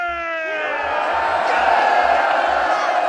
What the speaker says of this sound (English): And all the crowd cheers.